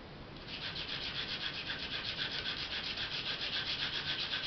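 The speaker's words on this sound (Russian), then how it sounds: "Дальше точим. Наждачная бумажка нужна номер 100." An eggshell is rubbed with number 100 sandpaper in a steady, continuous rasping scrape with a fast back-and-forth rhythm, close and fairly quiet, with no voices.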